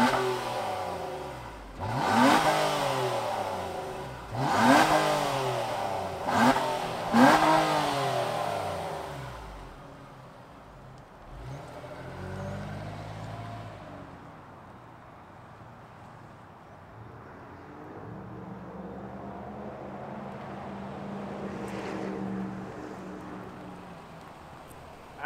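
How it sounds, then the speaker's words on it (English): A 2023 Nissan Maxima sedan's engine fires up and is revved hard three times in quick succession, then settles into a steady idle with a slight later rise in revs, loud and close with no talking. "Let's fire up this Nissan Maxima and hear what it sounds like."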